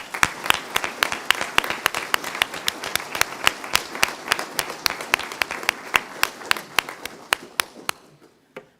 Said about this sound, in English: If we could have a round of applause, please.